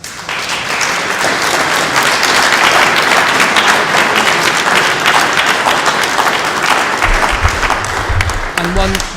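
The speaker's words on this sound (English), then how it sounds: "Another round of applause." An audience at a composers competition reception gives a sustained, loud round of applause for the composers and pianist, dense clapping throughout with a low thump near the end.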